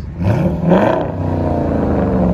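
A 2012 Jeep Grand Cherokee 5.7L HEMI V8 with Carven TR true dual exhaust revs up and holds a loud, deep, rumbling drone close by, the pitch rising briefly before settling.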